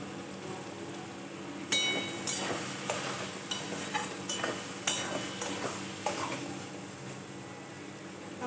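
Mushrooms fry in a pan with a soft steady sizzle, while a spoon or spatula stirs and scrapes against the metal in scattered light clinks. The sound is quiet and close.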